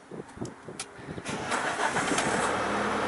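A car engine cranks and catches, then settles into a steady running drone that stays fairly loud to the end, with a few brief knocks early on.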